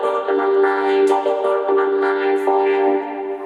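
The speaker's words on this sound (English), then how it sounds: "the vocoded vocal sounds like this." A vocal run through a synth vocoder, turning the voice into buzzy, pitched chord tones that hold steady and shift in short phrases, loud and continuous with no plain speech.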